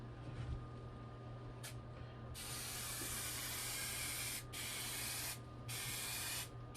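Spray glue hisses onto a canvas shield cover in several long bursts with short pauses between them, close and steady with no talk.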